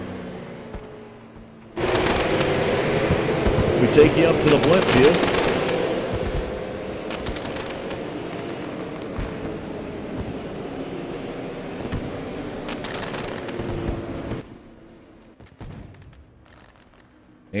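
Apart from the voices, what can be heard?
fireworks at a race track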